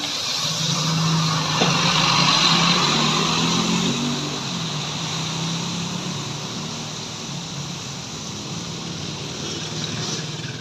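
A Putra Pelangi Scania bus passes along a road in Aceh in the morning, its engine rumbling loudly as it draws near and goes by, then fading slowly into steady road noise and wind.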